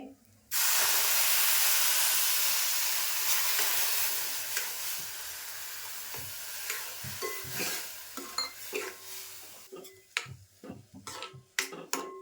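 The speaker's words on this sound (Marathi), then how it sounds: "आता मी त्याच्यामध्ये ना दूध टाकून घेते" Milk hits a hot pan of roasted broken rice for kheer, setting off a sudden loud hiss and sizzle that gradually softens into bubbling and the clink and scrape of stirring.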